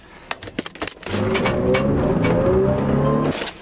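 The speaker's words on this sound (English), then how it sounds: "51 Tesla just took off." A Tesla car pulls away at speed, its drive noise rising into a steady loud whine after a few clicks and knocks, then dropping off as it leaves.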